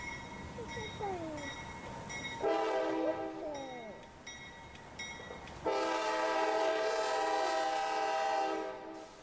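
A train horn in Train Sim World 3 blares in long sustained tones with rumbling rail noise, loud and continuous, with a few short gliding electronic tones early on.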